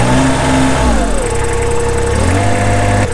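A 3100D golf course reel mower runs its diesel engine just after start-up, a loud close rumble with steady tonal drone that dips in pitch midway and then rises again, with no talking.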